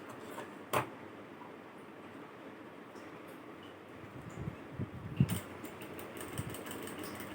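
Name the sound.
sewing machine stitching a backstitch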